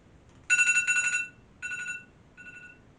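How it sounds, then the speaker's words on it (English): An electronic alarm in a tabletop game based on Alien, Fate of the Nostromo, beeps in loud, clear bursts: a long pulsing stretch, then a shorter one, then a fainter final beep, with quiet background between. "don't know what that alarm was for"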